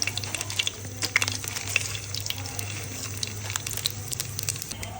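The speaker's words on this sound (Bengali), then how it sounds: "মোটামুটি তেলটা গরম হয়ে গেছে। এখন আমি শুকনো মরিচ দিয়ে দিচ্ছি" Dried chillies hit hot mustard oil in a pan and set off a close, crackling sizzle full of sharp pops and spits over a soft, steady hiss.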